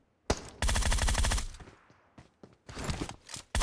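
Automatic gunfire in PUBG Mobile, loud rapid bursts of shots close by, with a long volley, a pause with faint footsteps, then more bursts.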